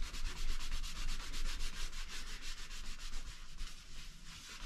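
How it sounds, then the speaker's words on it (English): A paper towel rubs dye into a leather holster for a Taurus Model 94 in quick, steady back-and-forth strokes, a soft close scrubbing sound with a faint even rhythm and no voices. "I'm just taking this paper towel. I put a little dye on it, and I'm just kind of rubbing it in now."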